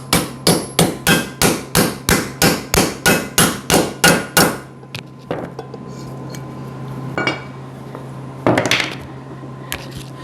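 A fast run of about fifteen ringing hammer blows lands on a 1998 Arctic Cat 500 4x4 ATV wheel bearing, loud and close. A few scattered clanks and shop noise follow.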